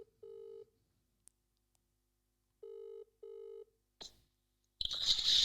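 A phone call goes out with steady ringback tones, two short rings and then a pair after a pause, followed by a click as the line picks up and a burst of noisy connection.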